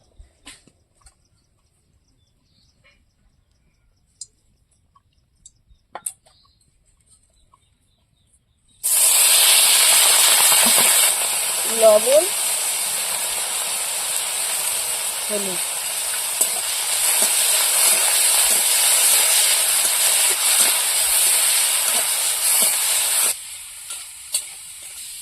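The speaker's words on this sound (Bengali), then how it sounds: "ওল ডাঁটা ভাজা করার জন্য প্রথমে চিংড়ি মাছগুলো ভেজে নেব।" Shrimp frying in oil for a village-style ol data (elephant foot yam stem) dish: after a quiet start, a loud, steady sizzling hiss bursts in and runs for about fourteen seconds before cutting back, with brief speech nearby.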